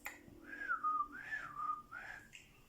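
A person whistles a short wavering tune nearby, the pitch sliding up and down over a few seconds.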